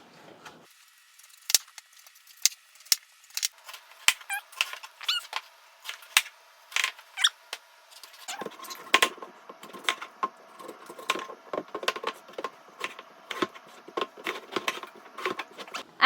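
Knife slicing peeled apples into pieces on a cutting board, producing a steady run of sharp, close taps and clicks, with no talking.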